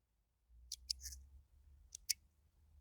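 Scissors trimming leggy petunia stems, a few quick crisp snips in two small clusters, close and fairly quiet against a soft low background, with no talk.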